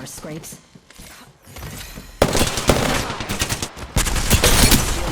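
Automatic gunfire in Apex Legends Season 20, a Valkyrie solo match, breaking out in loud rapid bursts after a quieter opening and continuing to the end, with someone talking over it.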